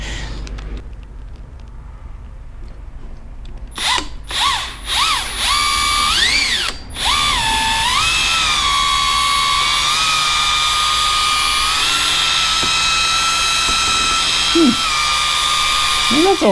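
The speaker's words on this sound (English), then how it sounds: "Okay, now I got a spot to lay the mixer down when I finish doing this." A power drill fitted with a mixer paddle spins up in a garage, whirring loudly and steadily after a few brief revving bursts, its pitch dipping and recovering under load, with someone speaking occasionally.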